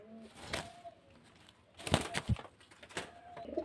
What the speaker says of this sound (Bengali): মুর্শিদাবাদের দেশি গিরিবাজ পায়রা